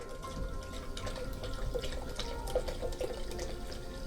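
Spring water pours into a blender for a salad dressing, a quiet, continuous trickling splash with small drips and gurgles throughout.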